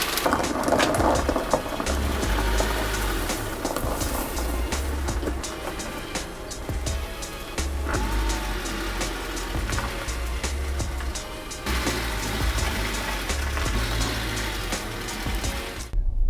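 A Honda Prelude with a distributor fix runs on a test drive, producing a continuous rough drone with a strong low rumble and broad road and wind noise throughout, with no talk.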